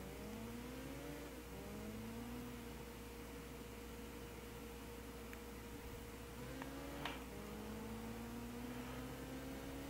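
A low-horsepower budget car's engine revs and shifts through gears in a Gran Turismo 6 online race, a steady mid-pitched drone rising and dropping, heard fairly faint and continuous without talk.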